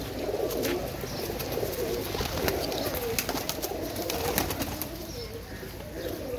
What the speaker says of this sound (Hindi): ये मेरे उड़े हुए कबूतर, ये दोनों आ गए